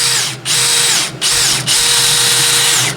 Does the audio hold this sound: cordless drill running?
yes